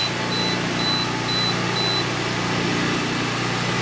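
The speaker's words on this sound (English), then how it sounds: "That beeping is my meter coming off, so I'm going to reset that." An electric meter emits a short series of four evenly spaced high beeps during a test of a 2000W pure sine wave 12V DC to 110V/120V AC inverter, over steady fan and hum noise.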